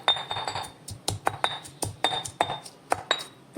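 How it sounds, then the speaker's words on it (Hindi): Ginger pounded in a mortar with a pestle, a run of sharp irregular knocks and clinks close up, quick and uneven. "तो इसी तरह से अदरक को यहाँ पर कूट लीजिए फ्रेंड्स, इस तरह से"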